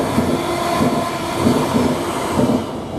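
A Class 745 electric train, unit 745001 running from Norwich to London Liverpool Street, rumbles steadily through Romford station with a continuous rail roar and faint rhythmic wheel beats.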